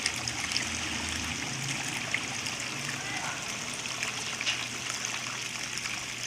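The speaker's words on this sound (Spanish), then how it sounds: "¿Cómo que qué suena? Agua." Water runs steadily inside a 15 kg Whirlpool washing machine that leaks water and makes noise while spinning dry, a continuous close rushing and trickling wash that fills the whole stretch.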